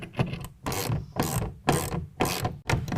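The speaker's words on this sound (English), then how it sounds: "we're going to go back up underneath and tighten down the 4 bolts using a 1/2 inch wrench or ratchet" A ratchet clicks in repeated bursts, about five rapid strokes, while tightening four bolts beneath the cab end of an Extang Xceed tonneau cover on a 2017 Ford F-150; close and fairly loud, with no talking.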